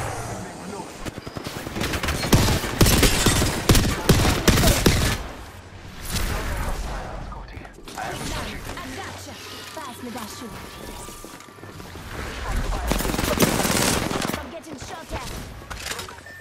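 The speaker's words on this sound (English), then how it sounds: "Listen up, I'm getting shot at." Sustained gunfire in Apex Legends, dense overlapping bursts of automatic shots that swell and fade, loud and close, with voices calling out over the firefight.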